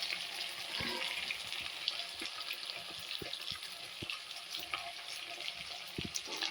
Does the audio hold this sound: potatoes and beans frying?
yes